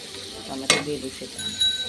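Tomatoes drop into a hot frying pan with a brief burst of sizzling, which then settles into a softer, steady frying hiss.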